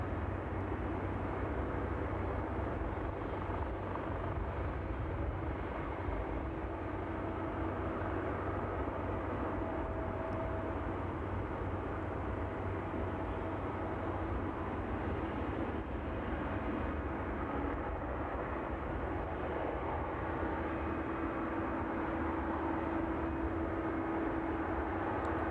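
An aircraft taxiing at East Midlands Airport on an evening, a steady broad engine rumble and hum that stays constant throughout, heard from a distance with no talk.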